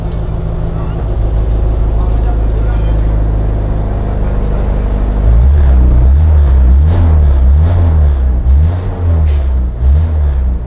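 A Land Rover engine with Fitech fuel injection runs loud and close, a steady drone that shifts midway into a deeper, pulsing rev with throbbing surges.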